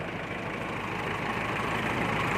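A tractor engine idles close by, a steady low, rough chugging rumble that continues evenly and alone.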